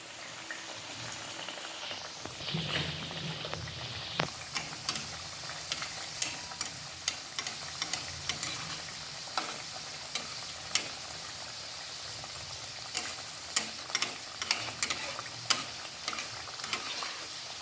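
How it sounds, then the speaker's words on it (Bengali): Mughlai paratha frying in hot oil in a kadai, a steady close sizzle and bubbling throughout with scattered sharp spits and crackles, no voices. "তেলটা গরম হয়ে গেছে, আমি এবারে মোগলাইগুলো তেলে দিয়ে দিচ্ছি।"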